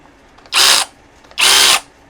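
A Ruzorbolt cordless 21V 3/8-inch ratchet wrench with a D10 style anvil spins up in two loud, near bursts of high motor whine, each under half a second, separated by a brief quiet gap.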